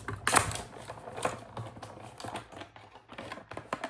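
A paper die cutting machine grinds through a pass, giving a soft, close mechanical rumble with a series of irregular clicks and ratcheting knocks, stronger at the start and then steady.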